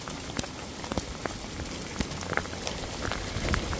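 Hail patters on a surface in a dense, steady stream of small ticking impacts, with a few sharper hits standing out, heard from fairly close by.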